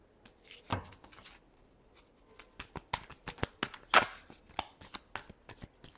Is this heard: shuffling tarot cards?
yes